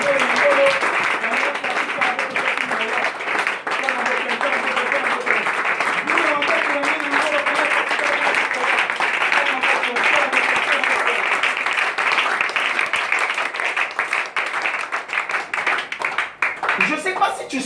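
A congregation at a night of prayer breaks into sustained loud applause and cheering, a dense wash of clapping with shouts and voices mixed in, continuing steadily and thinning slightly near the end.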